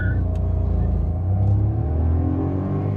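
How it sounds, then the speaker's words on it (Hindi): Maruti Swift 1.2-litre three-cylinder petrol engine revving hard toward 5000 RPM, a loud, steady low drone with a rising pitch that fills the cabin, heard alone with no talking. "raving till 5000 RPM, let's go"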